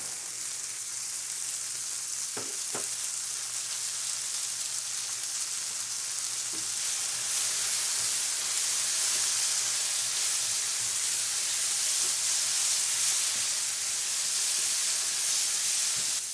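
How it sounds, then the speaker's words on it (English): Chicken browning in a pan for keto chicken curry, a steady soft sizzle and hiss of frying throughout with a couple of faint clicks early on. "I'm going to cook this until the chicken is mostly done and slightly brown."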